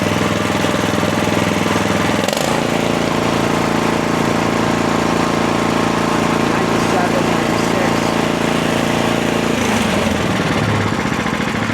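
A Thompson SDL25 crawler dumper engine fitted with an upgraded exhaust runs loud and steady close by, its rhythmic, pounding drone continuous throughout, with a shift in tone near the start and again toward the end.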